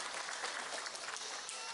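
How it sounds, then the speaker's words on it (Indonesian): Applause from a congregation at a prayer hall during an Islamic sermon gathering, a faint, steady patter of many hands clapping heard from a distance, with no voice over it. "Tepuk tangan dong buat musola kita meroh ini"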